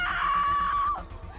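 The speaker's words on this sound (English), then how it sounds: "she gonna always scream, and she got a scream on her" A woman in a horror movie lets out a long, sustained high scream that holds steady for nearly a second before breaking off, loud and alone over a low rumbling background.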